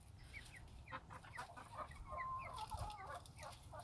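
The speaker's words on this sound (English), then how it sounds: "I think these are 3 roosters" Three roosters in a homestead chicken coop make soft, faint clucking and chattering calls in short bursts, with no talk.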